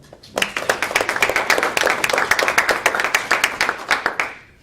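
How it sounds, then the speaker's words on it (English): A round of applause at a board of education monthly meeting, brisk rhythmic clapping from a modest group that swells quickly, holds steady, then stops abruptly near the end. "So round of applause for Kristen."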